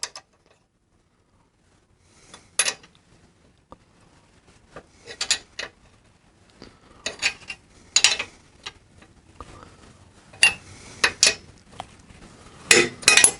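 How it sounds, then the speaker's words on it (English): A wrench tightening a lock nut on a bolt on an old-type adjuster on an old frame, giving sparse, sharp metallic clicks and ratcheting scrapes in irregular bursts against a quiet background. "Now I'll hold the bolt as I tighten the lock nut"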